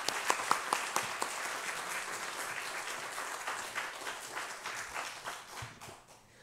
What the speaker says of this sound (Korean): 나오실 때 우리 박수로 환영해 주시면 감사하겠습니다